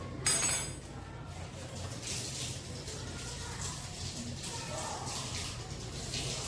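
Barium nitrate powder is dissolved in water in laboratory glassware, starting with a sharp glassy clink followed by soft sloshing and swirling water noise, close and moderately quiet.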